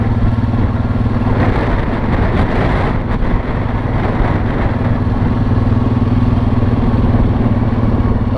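A vehicle drives along a rough coastal beach road of cracked papa rock, its engine a steady droning hum with clattering over the bumpy surface, loud and continuous from start to finish.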